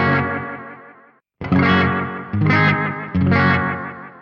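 An electric guitar played through a Boss GT-1000 set to emulate a Space Echo tape delay, with a few strummed chords ringing out with distorted, echoing repeats, heard alone with no talking.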